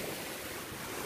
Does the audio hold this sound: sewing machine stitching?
no